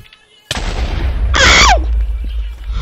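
A sudden lightning strike in a Hunger Games video game, a sharp loud crack followed by a sustained crackling burst and rumbling tail, close and dominant.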